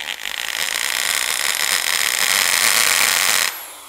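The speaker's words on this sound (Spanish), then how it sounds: "Pero cuando ponemos la opción de martillo, que es lo que necesitamos, cambia el sonido." A power drill in hammer mode runs loud and steady with a rapid hammering rattle for about three seconds, then cuts off abruptly.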